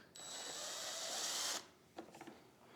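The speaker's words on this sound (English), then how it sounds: "So I'm just kind of holding this center piece still and drilling this out." A power drill whirs steadily for over a second drilling through a plastic car airbox, then stops, followed by a few short scraping, clicking handling sounds.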